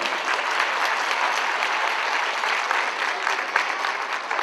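An audience at a village association event in Refahiye gives loud, sustained applause, a dense, even clapping that fills the whole stretch with a faint crowd murmur beneath.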